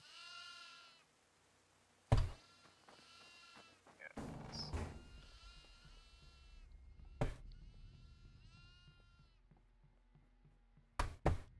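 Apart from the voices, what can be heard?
goats bleating in the video game Devour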